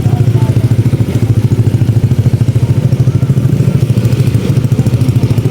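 Motorcycles ready to set off on a group trip to Aurora, their engines idling loud and close in a steady, throbbing rumble that continues without a break.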